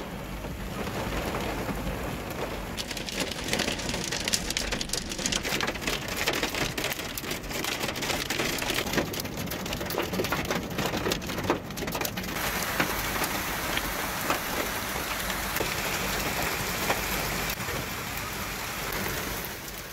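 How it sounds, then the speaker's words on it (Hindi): Heavy rain pours steadily on surfaces in Baramulla, Kashmir, with a dense continuous hiss, a distant thunder rumble, and faint birds in the background. "मुसलसल तेज बारिशों के साथ साथ तालाबारी का सिलसिला लगातार जारी था।"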